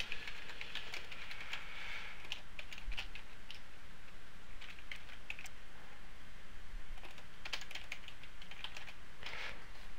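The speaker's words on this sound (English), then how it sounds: "if you go into a Windows command prompt and type that in here" Someone types a command at a computer keyboard in a Windows command prompt, giving quiet, close, irregular key clicks in short bursts against a faint steady hum, with no talking.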